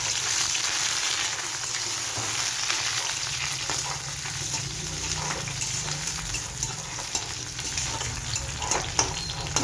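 Garlic and chopped onion frying in a pan, producing a continuous close sizzle with scattered crackles and small stirring sounds throughout.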